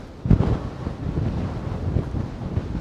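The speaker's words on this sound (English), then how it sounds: "I am trying to walk against the massive gusts of wind." Strong wind gusts buffet the microphone at a waterfront pier in Manhattan, a low roaring rumble with repeated surging bursts, loudest near the start and continuing unbroken throughout, with no voices.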